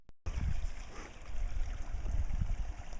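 Low gurgling rush of water running back through a freshly dug cut in a tail race channel, a soft continuous trickle with burbling swells, fairly close and alone.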